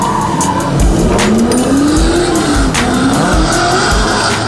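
Matt Powers' drift car runs through a semi-final, its tires squealing in a long rising and falling skid over a loud, steady engine roar.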